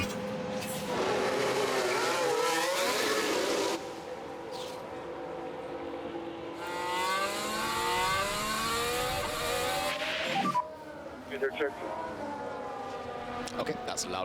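Race cars roar out onto the Mexico City Grand Prix circuit in a racing video game during practice, engines whining and rising in pitch in loud sustained waves, with brief gaps and a sharp burst near the end.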